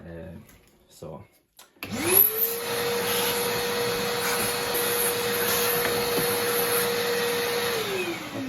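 A Makita VC2512L wet and dry vacuum cleaner starts up after some handling noises, spinning up to a loud steady drone that holds, then begins winding down at the end, close by.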